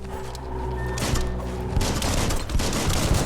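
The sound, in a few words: gunfire in the video game Biomutant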